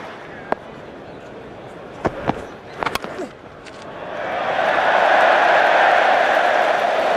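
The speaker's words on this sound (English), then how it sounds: "What a cheer." Cricket crowd at Lord's during an England vs Australia Ashes Test roars for a rare boundary, the cheer swelling into a loud sustained wave after a few sharp claps and knocks.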